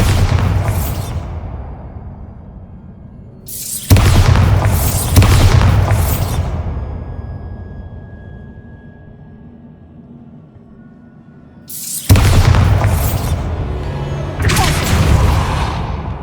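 Bombarda spell blasts in the Hogwarts Legacy video game, loud booming explosions bursting in separate clusters, each followed by a long rumbling decay, with no talking.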